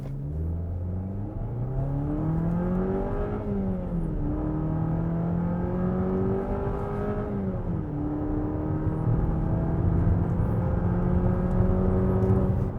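A 2021 Jeep Compass engine pulls hard from standstill toward 100, its drone rising steadily through gear changes with two clear dips where the pitch falls back before climbing again, loud and continuous inside the cabin.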